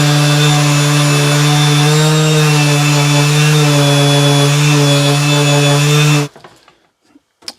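A loud power sander grinds steadily against the wood of a homemade picture frame, a strong constant hum with a bright whine, then it cuts off abruptly near the end, leaving quiet with a couple of small knocks.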